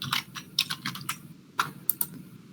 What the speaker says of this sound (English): Me, I'm just typing.